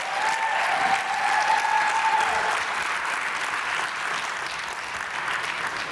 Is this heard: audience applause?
yes